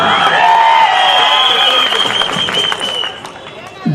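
Dense applause and cheering ripple through the crowd at a political rally, loud at first and then easing off toward the end.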